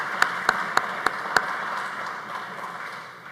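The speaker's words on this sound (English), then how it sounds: "Please join me in giving Nathaniel a round of applause" Audience applause at a building dedication and honouring ceremony, a broad steady wash of many hands with a few sharper claps standing out early, then slowly thinning toward the end.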